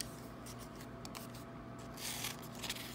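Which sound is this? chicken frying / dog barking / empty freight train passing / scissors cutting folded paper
scissors cutting folded paper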